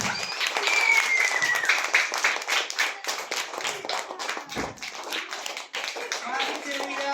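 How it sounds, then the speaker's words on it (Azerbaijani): An audience at an award ceremony applauds steadily in a room, dense close clapping that runs the whole time, with speech mixed in. "Alqışlayırıq Rüqayyəni"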